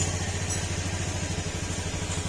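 A Honda Beat FI scooter engine idles just after a kick start, a steady, close, low putter of quick even pulses that carries on unbroken, with no voices.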